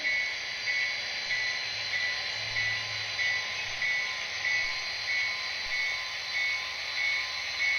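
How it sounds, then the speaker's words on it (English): HO scale model train passing on a BNSF layout, a steady electric hum with a high whine and faint rhythmic clicking that swells gently in waves, heard alone without talk. "Got a spine train coming through the work site, so we have to wait for him to come through."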